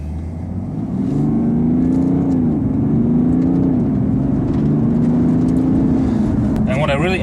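A 2017 BMW 530d xDrive (G30) diesel saloon drives off, its engine settling into a steady, close drone that rises and falls in pitch as it accelerates.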